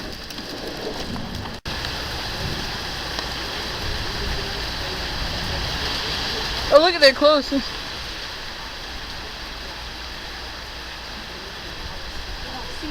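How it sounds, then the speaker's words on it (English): Heavy downpour in a Connecticut storm with hail, a dense steady roar of rain hammering surfaces throughout, while people talk briefly over it. "Pouring rain."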